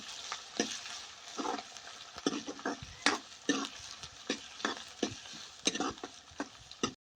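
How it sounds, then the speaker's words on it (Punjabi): Onions and green chillies fry in a pan with ginger and garlic for palak paneer, a steady close sizzle broken by rhythmic spatula scrapes and stirs, with no talking. "ਹੁਣ ਪਾ ਦਾਂਗੇ ਜੀ ਪਿਆਜ਼ ਤੇ ਹਰੀਆਂ ਮਿਰਚਾਂ ਇਹਨਾਂ ਨੂੰ ਭੁੰਨ ਲਈਏ"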